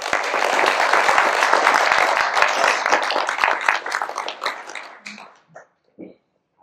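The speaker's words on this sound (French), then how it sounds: "Donc je voudrais qu'on les applaudisse vraiment très fort." Applause from an audience at a mayor's New Year address for the municipal staff: sustained, dense clapping from a crowd that thins into a few scattered claps before fading out.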